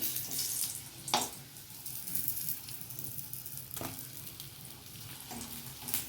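Soft, even sizzling of paneer samosas frying in a wok, with a few sharp clinks of a utensil against the pan at intervals.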